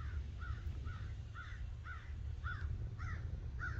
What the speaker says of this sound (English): Can you see that crow?